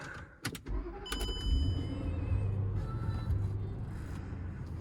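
A cheap, worn Range Rover L322 with a couple of error codes and a coolant warning pulls away, a sharp clunk and short whir giving way to a steady low engine drone that holds close and loud as it drives off.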